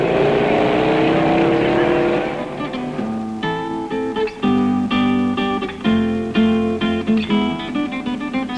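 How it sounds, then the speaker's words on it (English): Race car engines roar away from the start line of the Baja 1000 in Ensenada, a loud broadband growl at first, then revving, gear-changing engines that rise and fall as cars depart one after another. "Minutes tick away as car after car leaves the line and starts the long grind to La Paz."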